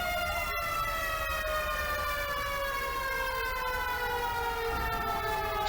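A loud, continuous fire engine siren in GTA V, played with a fire department mod, wails steadily up close through the whole stretch with no talk over it.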